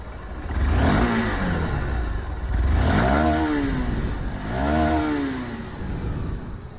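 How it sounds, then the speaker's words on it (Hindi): Honda SP160 motorcycle exhaust revving up three times in a row, each throttle blip climbing and falling away, loud and close with no talking. "अब यहाँ पर जो SP है इसकी भी जो आवाज़ है वो सुन लीजिए।"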